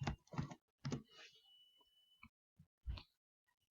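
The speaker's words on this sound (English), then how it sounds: "you'll just type in your word again" A word is typed on a computer keyboard in a quiet room, a few sparse clusters of light key clicks with pauses between them.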